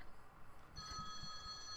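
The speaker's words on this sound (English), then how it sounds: "Got to answer the phone." A telephone rings faintly: a thin electronic tone begins partway through and holds steady over quiet low background noise, with no voices.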